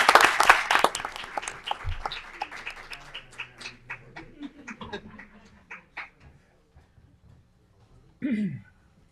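Audience at a town board meeting claps for staff from the Fire Marshal's office, a dense burst of applause that thins into scattered claps and fades out, with a brief voice near the end.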